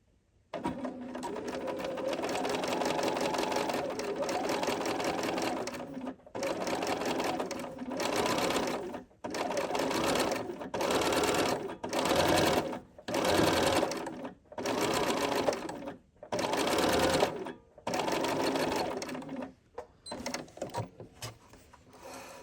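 A sewing machine stitches a blind hem in fast, steady runs that stop and restart every second or two, with brief pauses between bursts and no voices.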